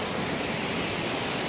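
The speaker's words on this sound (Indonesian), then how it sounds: "dan itu air terjunnya." Steady, dense rush of falling water from Curug Cipendok, the tallest waterfall in Central Java, a constant broadband roar with no breaks or voices.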